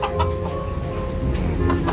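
Labuyo, red junglefowl chickens, cluck softly over steady low background noise, with scattered short calls across the stretch.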